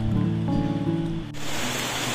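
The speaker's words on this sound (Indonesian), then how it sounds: "Kenapa hujan? Geledek-geledek lagi," Rain pours steadily beside a clear river in Sumatra, a loud dense hiss that swells into a broad wash partway through, with no distinct thunderclap.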